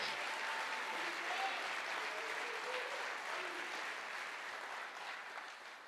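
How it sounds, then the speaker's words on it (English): Steady applause from an audience at a Men's Alliance birthday celebration honoring a volunteer, sustained even clapping for about six seconds, moderately distant and gradually tapering, with no talk over it. "So another round of applause for Fresh."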